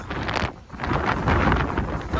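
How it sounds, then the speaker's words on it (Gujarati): Strong sea wind buffets the microphone aboard a ro-ro ferry from Hazira to Ghogha in a steady roaring rush, with a brief lull partway through before gusting back up loudly. "પવન પણ વધારે છે."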